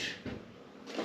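A wooden door hatch on a boat is slid and lifted off, giving two soft scraping, thudding handling sounds at the start and end of a brief quiet moment.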